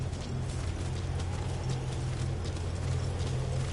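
D-Horse's hooves clip-clop steadily while riding in Metal Gear Solid V, a continuous rhythmic trot over a low mechanical hum, held at an even level with no talk.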